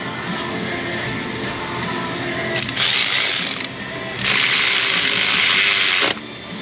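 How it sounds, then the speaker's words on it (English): Ratchet working on bolts during a repair on a 2015 Nissan Pathfinder, a steady close mechanical clicking that turns into two louder, harsher bursts of rapid ratcheting, with no talk. "Let's just get a couple of the bolts in real quickly like."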